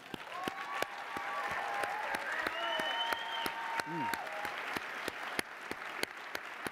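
Audience cheering and applauding for award finalists at the Bowerman presentation, a steady wash of clapping with some voices and whoops mixed in, moderately distant and sustained throughout.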